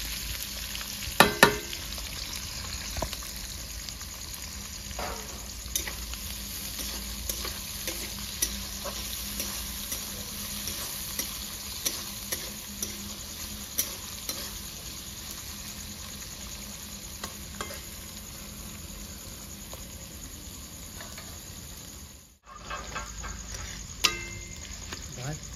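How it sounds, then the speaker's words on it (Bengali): Onions frying in hot oil for a restaurant-style chicken bharta, giving a steady close sizzle with frequent sharp pops and spatula scrapes, dipping briefly quiet near the end. "তেলটা গরম হয়েছে, পেঁয়াজ দিয়ে দেবো।"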